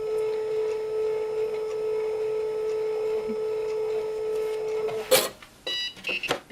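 A Cricut cutting machine powering on: a steady electronic hum, then near the end a burst of clicks and short beeping tones as it starts up, close and fairly clear.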